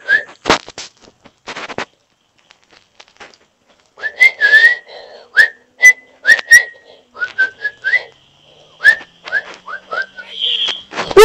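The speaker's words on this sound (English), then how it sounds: "And I whistled." A person whistles a tune over game sounds in a stickman rope hero game, with a string of short rising whistled notes and bursts of clicks and bangs between them.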